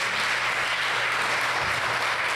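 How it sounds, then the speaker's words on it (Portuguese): A church congregation applauding the Lord during a Wednesday evening worship service, a dense, steady wash of clapping from many hands, loud and continuous throughout. "Você pode aplaudir ao Senhor?"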